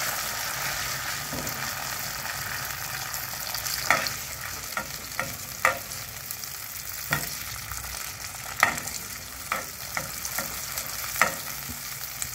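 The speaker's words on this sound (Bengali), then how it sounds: "তো কড়াইশুঁটিটা দিয়ে দিলাম আদা বাটা দিয়ে।" Green peas with ginger paste frying in a wok, giving a steady, close sizzle with scattered sharp clicks and scrapes of stirring throughout; no voices.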